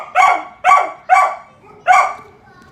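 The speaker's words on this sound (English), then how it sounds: "She barks." A suburban dog barks four times, loud and close, each bark sharp and evenly spaced with brief silence between.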